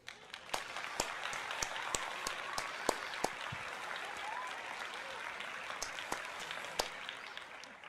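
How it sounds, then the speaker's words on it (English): A baseball stadium crowd at a Phillies game breaks into a round of applause, a broad wash of clapping with scattered sharp claps standing out, steady and fairly distant across the whole stretch. "That deserves a round of applause."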